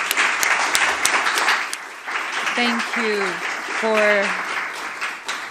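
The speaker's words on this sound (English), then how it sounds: "Please give her a big round of applause." Audience applause at a women's pavilion discussion at Expo 2020, a steady wash of clapping with a person speaking briefly over it partway through.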